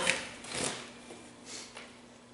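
Packing paper from a box of parts being handled, a few brief close crinkling and rustling swishes spaced out over a couple of seconds.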